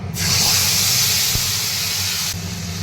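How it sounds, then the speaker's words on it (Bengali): Tomato and ginger paste hits hot oil that already holds whole cumin and nigella seeds, bursting into a loud, close, steady hiss of sizzling that lasts a couple of seconds before dropping back to a low background. "এবারে আমি দিয়ে দিচ্ছি টমেটো আর আদা বাটা,"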